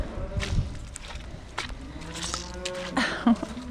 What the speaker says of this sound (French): On entend les vaches qui font du bruit